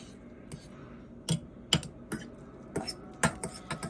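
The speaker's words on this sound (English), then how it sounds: "So we're gonna maneuver this around, stir it up again." Spoon clinking and scraping against a mug while stirring a mixture, giving a series of sharp, close knocks spaced irregularly over a quiet background.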